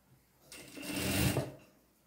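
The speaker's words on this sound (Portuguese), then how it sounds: "Aí é só mesmo passar uma costura" A sewing machine runs a stitched seam around the waist of pantacourt trousers, a steady whirring buzz swelling for about a second before stopping, close and alone.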